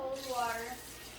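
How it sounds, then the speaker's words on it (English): Cold water runs from a kitchen tap into a pot of farm-fresh eggs being readied for hard boiling, a soft, close splashing stream that rises briefly in pitch as the pot fills, then settles. "we're going to add just a little bit more cold water"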